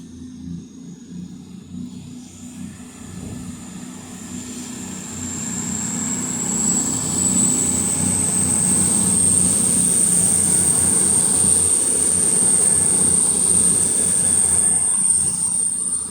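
A CrossCountry Class 221 Voyager train pulls out of Stoke-on-Trent bound for Manchester Piccadilly, its diesel engine rumble swelling steadily as it gets under way, with a rising high-pitched whine and wheel squeal over a continuous roar.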